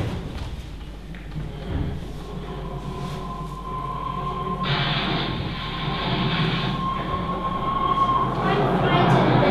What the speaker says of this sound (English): What's that? it's a train.